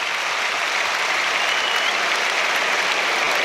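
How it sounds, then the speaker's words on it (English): A dense, continuous roar of applause and cheering from a full Premier League stadium crowd at the Emirates, Arsenal against Newcastle United, for a player being substituted, broad and sustained at an even loudness. "there's applause for him"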